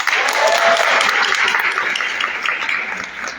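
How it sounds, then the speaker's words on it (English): Audience applauding a performance at a Bangladesh Independence Day celebration inside New York City Hall, a dense, loud burst of clapping that gradually tapers off, with faint voices mixed in. "Another round of applause."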